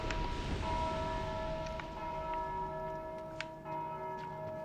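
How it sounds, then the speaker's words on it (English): In the Dark Souls II game, a bell clangs, its sustained metallic tones ringing and decaying against quiet ambient noise, with a few faint ticks and no speech. "there's the last guy ringing the bell."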